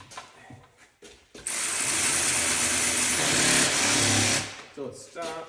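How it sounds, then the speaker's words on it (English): Cordless ratchet spinning bolts in during BMW detent repair work, a loud steady mechanical whir lasting about three seconds, with brief clicks and handling noise before and after. "I like to take cordless impact, or cordless ratchet"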